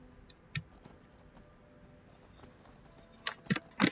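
Horse hooves clip-clop in Skyrim, a few scattered soft steps followed by a closer, louder run of hoof strikes over quiet game ambience, with no talking.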